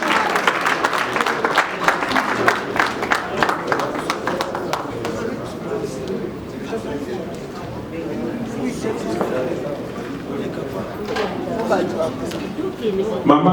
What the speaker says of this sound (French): Applaudissez Blaise Boula qui vient de faire son appel.